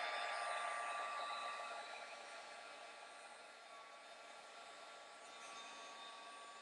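A heat tool blows steadily over freshly applied shimmer paint on a mixed media layout, a broad hissing whoosh that starts loud and eases slightly, continuous for several seconds with no talking.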